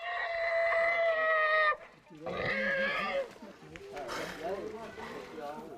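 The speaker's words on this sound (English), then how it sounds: "A pig is slaughtered in honour of the visitors." A pig slaughtered in a village in the Philippines lets out long, piercing squeals that break off and resume, loud and close, mixed with voices and background commotion.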